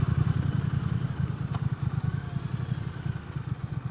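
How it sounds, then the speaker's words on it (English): A Triumph motorcycle, a Bonneville T100 or Thruxton R, pulls up in front of a service shop, its engine chugging with a steady, close low rumble as it rolls in and parks. "Park right in front of the service shop. We park the bike here."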